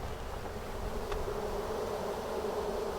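A massive honeybee swarm droning steadily and densely, a thick continuous buzz filling the space without break, close and loud.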